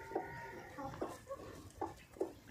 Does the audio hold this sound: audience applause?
no